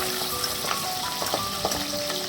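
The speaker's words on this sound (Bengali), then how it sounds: "দেখতে পাচ্ছ পাবদা মাছটা বেশ লাল লাল করে ভাজা হয়ে গেছে" Pabda fish browning in hot oil in a pan, a steady close sizzle and crackle with a few small pops, no voices.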